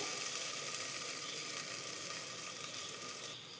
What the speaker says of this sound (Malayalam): ഇനി നമുക്ക് തീ കൂട്ടി വെച്ചതിന് ശേഷം ഈ മാവ് കുക്കറിലേക്ക് ചേർത്ത് കൊടുക്കാം